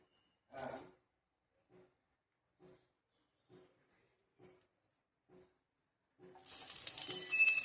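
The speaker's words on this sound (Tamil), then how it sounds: "குழம்பு தாளிச்சுட்றேன்" Spices tempering in hot oil for a Kongunadu-style chicken gravy: a few soft clicks and taps, then a sudden loud, steady sizzle that swells and holds to the end, with no talking.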